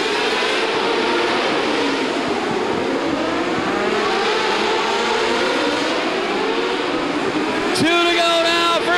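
Non-winged mini sprint race cars roar around an indoor track, a continuous loud buzzing engine drone with pitch rising and falling as they pass, while an announcer talks over it and a sharp rising whine enters near the end.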